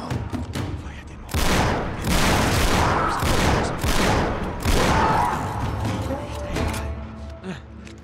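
Gunfire in the video game Uncharted 3: Drake's Deception, a loud burst of repeated shots in uneven clusters with mechanical clatter between them, filling most of the stretch.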